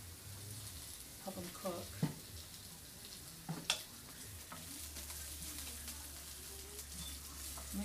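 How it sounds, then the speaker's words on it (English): Vegetables sautéing in olive oil in a hot pan, a steady soft sizzle with occasional utensil clinks and stirring scrapes, while a person talks intermittently nearby. "I'm going to saute these too."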